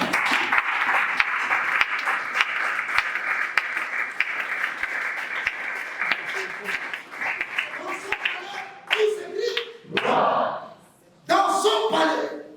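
A church congregation bursts into sustained applause and clapping that fades and breaks apart near the end, with voices calling out over it.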